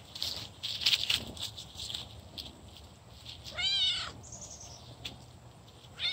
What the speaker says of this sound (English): Leonard is looking for a home, Specialty Purebred Cat Rescue.